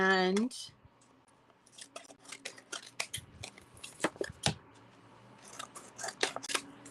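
Scissors snip through a vinyl car decal in a quick run of crisp, close cuts, pausing and resuming, with a brief spoken word at the start.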